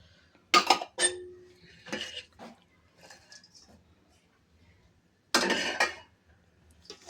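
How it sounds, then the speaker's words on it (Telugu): Onion pakoda batter with carrot, green chilli, curry leaves, salt and chilli powder being mixed in a bowl: a few short, close clattering and clinking bursts separated by quiet gaps. "సరే, అన్నీ బాగా మిక్స్ అయ్యేలాగా కలుపుకోవాలి."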